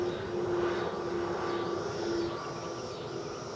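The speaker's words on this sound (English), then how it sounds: "Freaking airplanes." An airplane passes overhead as a steady, loud broadband roar with a droning engine tone, sustained throughout without speech.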